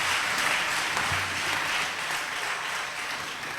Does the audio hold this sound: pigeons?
no